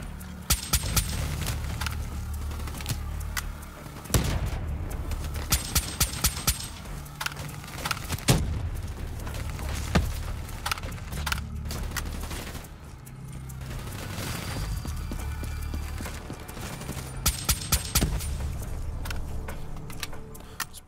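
A silenced gun fires in quick bursts of sharp, clipped shots during a Black Ops 3 campaign fight, several clusters spread across the stretch with steady game background between them.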